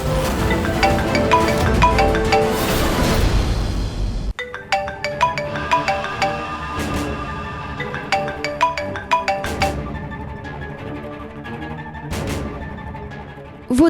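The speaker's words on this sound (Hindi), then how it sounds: "फोन उठा लो ना, कब से बज रहा है?" A melodic electronic ringtone plays repeatedly, bright tinkling notes in a looping pattern, fairly loud with no one speaking.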